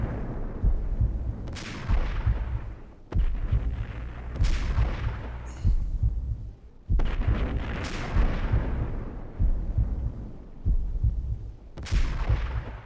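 Heavy gunfire in Max Payne 3, loud booming shots roughly every one to two seconds with short pauses between, close and powerful, each blast followed by a rumbling tail.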